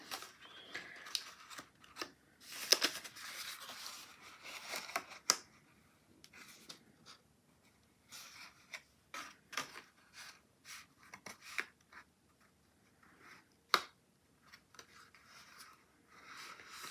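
Paper folded and creased by hand into a pyramid box, with intermittent crisp rustles and sharp creasing snaps, quiet and close, separated by pauses.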